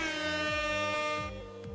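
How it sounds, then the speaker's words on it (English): A loud, blaring MLG air horn sound effect plays in a paddle video game, a harmonic-rich honk with stuttering pitch-shifting repeats layered over it, no talking. "the MLG air horn was just a bit too much with how frequent it plays during the game"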